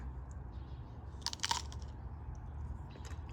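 A single crunchy bite into a fruit with a mushy, apple-like texture, picked from a backyard garden, gives a short burst of crisp crunching close to the mic that stands out from a quiet, steady background.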